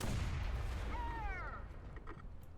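Big artillery gun from a low-tier self-propelled piece in War Thunder fires one heavy boom at close range, with a broad rumbling blast and a short whistling tail fading into a loud ambient roar.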